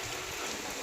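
Heavy monsoon rain pours steadily over flooded Gujarati farm fields, a soft, even hiss of falling water that continues without a break for the whole short moment.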